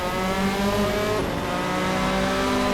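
Race cars in a sim racing video game, including Miatas, Cobras, RX-7s and old Le Mans cars, roar loudly together in a dense pack, engines revving and whining continuously with no talk.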